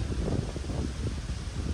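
Wind buffets the microphone in a continuous low rumble, gusting unevenly throughout.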